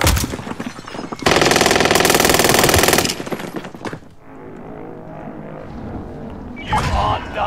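Sustained automatic gunfire from a first-person shooter game, a dense loud burst lasting about two seconds among other game sounds, followed by quieter ambience and a brief later sound.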